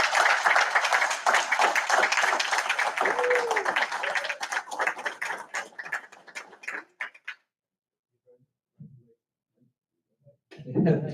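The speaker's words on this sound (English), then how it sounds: "this is when you get to clap" A township council meeting audience claps for police officers honored for excellence in policing, a dense burst of many hands that thins and trails off into scattered claps and silence before a brief voice returns.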